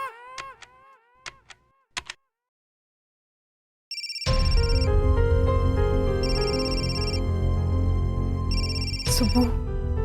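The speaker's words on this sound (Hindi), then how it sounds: "सुबह सल्लू फोन क्यों नहीं उठा रही है?" A phone rings with a repeating electronic tone pattern, loud and close, after a few short tonal sounds that could be a voice or notifications.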